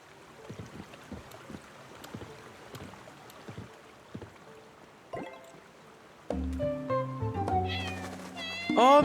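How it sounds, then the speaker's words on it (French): A cartoon cat meows in the video game Heartopia: short meows come over light ambient game sounds and soft clicks, followed by a brighter burst of chiming game music and rising meow-like tones near the end. "Oh, petit chat."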